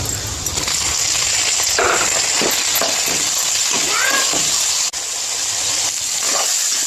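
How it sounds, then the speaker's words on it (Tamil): Coconut and tomato sizzle steadily in a hot pan, a constant frying hiss with occasional light clinks and scrapes of a utensil. "தக்காளியும் சேர்த்து நல்லா வதக்கிக்கோங்க"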